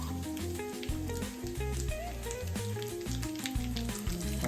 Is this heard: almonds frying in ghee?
yes